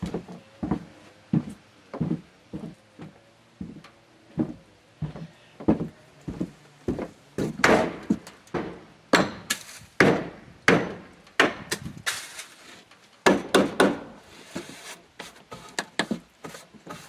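Hammer blows on wood during a camp renovation, a long run of sharp, evenly spaced strikes at close range that grow louder and quicker midway, then continue in bursts, with no talking.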